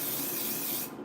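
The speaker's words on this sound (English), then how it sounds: "it's really just extreme hold hairspray that they have marketed as an adhesive." A continuous loud hiss of extreme hold hairspray, marketed as a wig adhesive, sprayed close up in one sustained burst that cuts off at the end.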